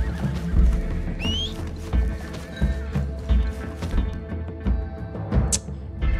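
Horse in the Red Dead Redemption 2 video game whinnies loudly with a rising squeal, while hooves clop in a steady, close rhythm throughout, under game background sounds.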